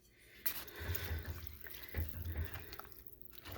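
Water, 3 3/4 cups of it, runs and splashes softly into a cooking pot for a quick dinner dish, a faint, steady pour with a few small drips, heard alone.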